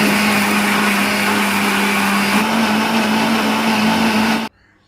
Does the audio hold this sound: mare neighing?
no